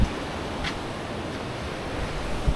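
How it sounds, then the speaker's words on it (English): Ocean surf washes steadily under gusty wind on an overcast beach in Thailand, a continuous rushing noise with occasional low buffets on the microphone. "it's got the waves kicked up"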